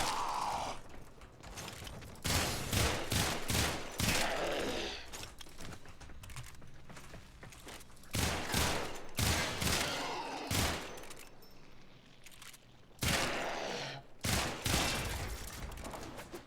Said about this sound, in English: Now, apply status way more because I'm shooting more bullets.